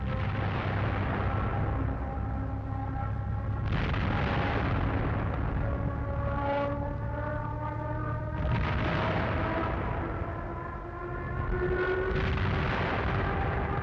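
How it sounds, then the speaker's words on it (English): Bombs striking a large Maginot Line fortification set off repeated deep explosions that roll into one another, heavy and sustained, with a low rumbling din throughout. "Unter uns die Maginot-Linie. Ein großes Werk wird bombardiert."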